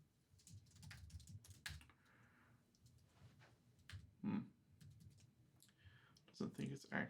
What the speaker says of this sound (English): I'm going to type something in here